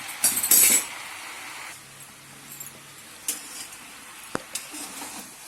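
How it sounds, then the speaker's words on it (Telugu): Whole spices fry in a pan as turmeric goes in for bisi bele bath. A loud rattling clatter opens, then a low steady sizzle with a few small clinks of a spoon against the pan. "ఇప్పుడు ఇవి వేగుతున్నాయి కదా, ఇందులో మనం పసుపు వేసుకుంటున్నాం"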